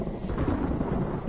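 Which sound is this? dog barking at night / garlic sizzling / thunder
thunder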